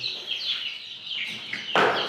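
Young chicks chirp in a steady high-pitched chorus while being herded into a shed, the peeps overlapping continuously with a louder burst near the end.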